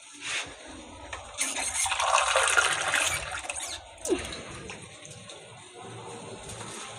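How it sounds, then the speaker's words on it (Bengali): Water poured into a pan of taro that has been cooking in spices: a short burst of splashing and rushing liquid, then a fainter settling hiss. No talk. "এবারে জল দিয়ে দেবো"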